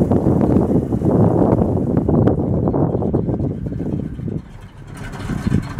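An old barn-find truck engine idles low and smooth with a rusty exhaust and missing tailpipe end, a steady close rumble with wind buffeting the microphone before it quiets near the end.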